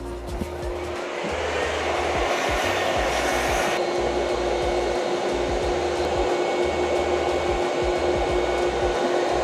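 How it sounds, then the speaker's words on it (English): A vacuum cleaner runs continuously at close range, a loud steady whine and roar with a slight shift in tone partway through, with no speech. "Then I have to vacuum it."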